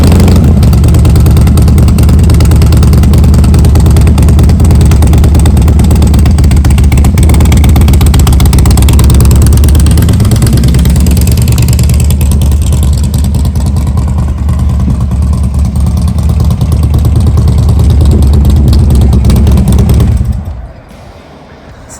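A Harley-Davidson 98-inch Twin Cam V-twin idles loud and close with an uneven, choppy lope, settling for several seconds and then cutting off abruptly near the end.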